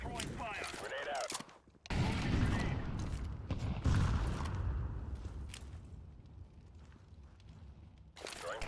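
Grenade blasts in a video game: two heavy explosive bursts with rumbling decays, preceded by sharp clicks and mechanical rattles, with a quieter tail and another impact near the end.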